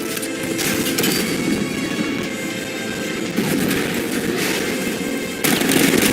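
Heavy tank cannon fire in the video game Batman: Arkham Knight booms repeatedly over a dense, rumbling battle din, loud and sustained with a few sharper blasts.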